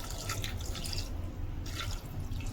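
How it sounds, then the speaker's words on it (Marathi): A small amount of water splashes and trickles into a pressure cooker holding mutton, a close, uneven pouring that pauses briefly midway. "पाणी थोडंच घातलंय"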